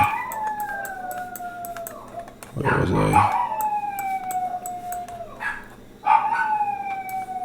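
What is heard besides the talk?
dogs howling in the background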